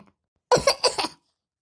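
A single short cough, a few rapid bursts close to the listener, surrounded by silence.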